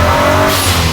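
A twin-turbo Ford GT40 restomod engine pulls hard under acceleration, a loud close droning roar with steady low harmonics and a brief tire-like squeal, lasting about a second with no talking.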